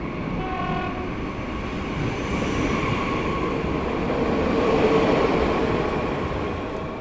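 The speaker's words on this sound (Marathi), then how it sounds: "धडधडत आलेली रेल्वे धूळ उडवत निघून गेली" A train rumbles past with a steady clatter of wheels on rails, the sound swelling louder toward the middle before easing off.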